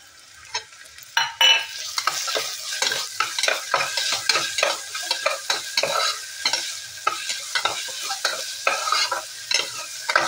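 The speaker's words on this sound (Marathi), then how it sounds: "ती आता छान अशी भाजून घेऊया।" Chopped onion frying with a ginger, garlic, coriander and mint paste, stirred with a spoon in a pan: a steady sizzle broken by repeated scraping strokes at a fairly regular rhythm, close and loud, with no voices.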